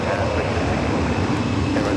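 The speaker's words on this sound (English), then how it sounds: "I'm seeing Japan Airlines A350-1000 heading back to Tokyo Haneda, heading up here for a north side at takeoff" A Japan Airlines Airbus A350-1000 jet takes off at LAX with a steady, broad engine roar that stays loud and unbroken for two seconds.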